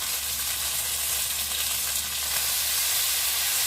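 Chicken sautéing in a pan for honey glazed chicken, a loud, steady sizzle and crackle of frying close up, continuous without pause and no voice over it.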